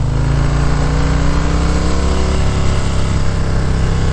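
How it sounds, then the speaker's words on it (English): A motorcycle engine roars steadily in gear, its pitch and volume climbing as it speeds up, loud and close with no talking. "listen to how the engine gets louder and louder and louder"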